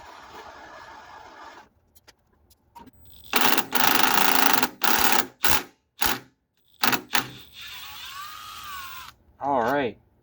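Ratchet wrench loosening the head bolts on a snowblower engine: close, loud bursts of rapid clicking and grinding in several separate spurts, with quieter handling noises between them.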